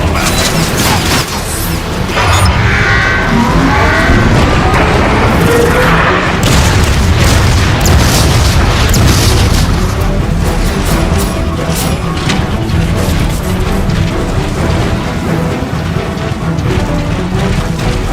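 Rocket explosions in Transformers: Fall of Cybertron, loud and dense, with a continuous roar of blasts and crashing debris that fills the whole stretch of game combat.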